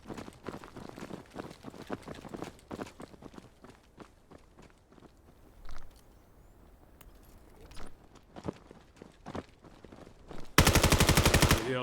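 Gunfire in the competitive shooter Vail during a tournament match, sharp shots crackling in bursts at varying distance amid footsteps, then a sustained loud automatic volley at the end.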